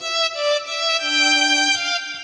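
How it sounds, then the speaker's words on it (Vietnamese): Violin voice on a keyboard sounding a few sustained, bowed-style notes with a shifting melody line, moderately loud, close and alone. "Tiếp theo đó là tiếng violon."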